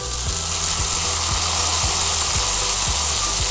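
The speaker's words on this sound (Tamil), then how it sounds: "தக்காளி சேர்த்துட்டு நல்லா வதக்கிக்கலாம்." Tomatoes added to browned onions sizzle in a pan, a steady frying hiss with regular low thumps repeating roughly every half second underneath.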